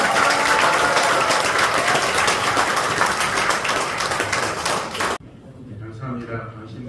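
An audience in a large hall at a Christian church forum claps loudly and continuously, a dense sustained roar of applause that cuts off abruptly before quieter room sounds and murmuring follow.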